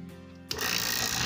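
A vacuum pump hooked to the low-pressure refrigerant line of a water cooler switches on partway through, then runs as a steady, loud mechanical drone. No one speaks.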